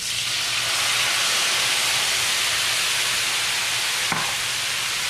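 White wine and golden raisins poured into a hot pan of frying capers hiss and sizzle loudly and steadily up close, with a single brief click near the end.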